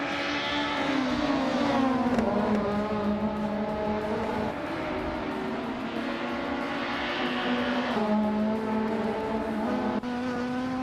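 A 1995 Seat Ibiza Group N race car in a racing video game wails steadily with its engine pitch climbing and dropping through gear shifts, loud and close, with other cars faintly behind.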